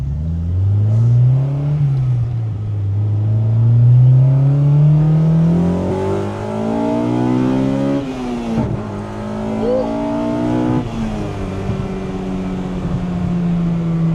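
A K-swapped Honda Civic EK with individual throttle bodies revs up and down repeatedly, close and loud, its pitch rising and falling through several gear changes.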